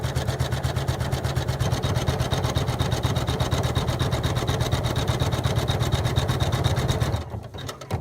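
An embroidery machine sews a satin stitch on a quilt block, a fast, even mechanical hum and rapid needle chatter, loud and steady throughout before stopping abruptly near the end.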